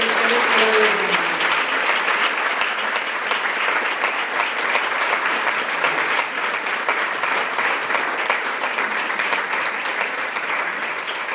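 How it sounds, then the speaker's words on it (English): Sustained audience applause fills a Think First award ceremony after the 2013 Chapter of the Year is announced, steady and loud clapping from a large crowd that holds its level throughout without fading. "If you give a round of applause to the 2013 Chapter of the Year, Think First Oregon."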